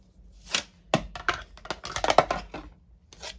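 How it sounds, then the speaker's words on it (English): A mini cut and emboss machine with die plates for card making, heard as a quick run of close clicks and clacks as the plates are stacked and cranked through. "So I'm going to bring in my mini cut and emboss machine."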